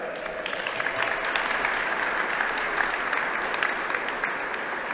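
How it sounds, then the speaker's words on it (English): Sustained crowd applause for the Wauwatosa East High School Orchestra at the Wisconsin State Capitol holiday tree lighting celebration, a dense, even roar of clapping with scattered sharper claps, continuing for about five seconds. "we're going to continue that applause for the Wauwatosa East High School Orchestra"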